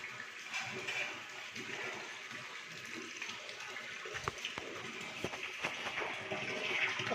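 Water gushes steadily into a barrel at an outdoor camp, a continuous broadband rush with occasional splashy clicks, growing slightly louder toward the end.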